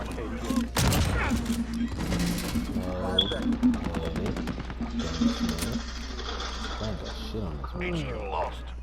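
Gunfire in the Call of Duty: Modern Warfare video game: a dense burst of shots early on, then rapid repeated gunfire through the middle, mixed with game voices and a player talking over it.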